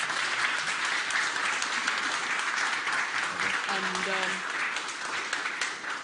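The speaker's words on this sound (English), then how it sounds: "Please, a great applause." Audience applause at a foreign and security policy yearbook presentation, a steady dense clapping from a crowd that fills the whole stretch at even loudness, with brief voices and a short tonal sound near the end.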